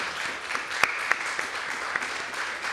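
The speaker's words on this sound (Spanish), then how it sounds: "despedimos a Julio con un fuerte aplauso" Faint, distant applause at a Semana Negra book presentation sends off an author, light scattered claps with a few sharper hits standing out over a soft room wash.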